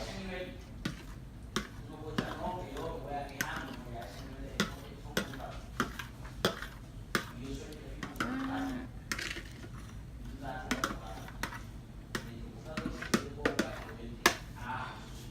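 A utensil moves and scrapes shredded beef through sauce in a pan, giving repeated close clinks and taps in an irregular rhythm under steady talk.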